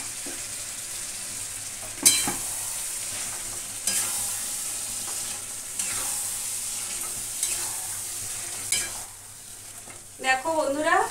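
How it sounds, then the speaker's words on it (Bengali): Yogurt-marinated mutton fries with spices in a pan, a steady sizzle broken by repeated scraping stirs of a utensil against the pot, with a brief clatter near the end. "এবার মাটনটা দিয়ে কষাবো।"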